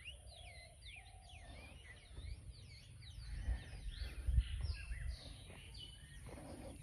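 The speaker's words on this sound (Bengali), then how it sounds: "এখানে রাস্তাতে অনেক পাখি আছে, পোকামাকড় খাচ্ছে আর কি।" Several birds feeding on insects along a road chirp and whistle in quick, overlapping calls, fairly faint and somewhat distant, over a low rumble of wind or passing traffic.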